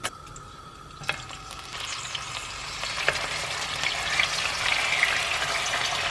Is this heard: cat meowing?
no